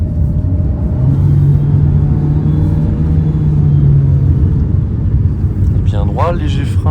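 Alpine A110 sports car driven on ice, its engine holding a steady, loud droning rumble under throttle at close range throughout, with a brief higher squeal or whine near the end.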